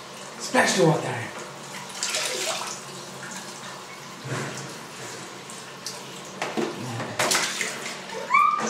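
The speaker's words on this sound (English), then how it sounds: "Splash the water." A child splashes bathwater in a tub at home, with bursts of sloshing and slapping water coming and going while adults talk nearby.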